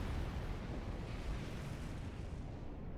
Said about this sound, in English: we were too close to the warp core explosion on that one.